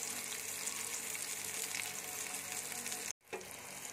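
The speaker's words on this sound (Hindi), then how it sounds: "दोनों साइड से अच्छी तरह पलट पलट कर बैगन को फ्राई कर लिए" Eggplant slices frying in a pan over a medium flame, a dense, steady sizzle close by that cuts out abruptly for a moment near the end before resuming.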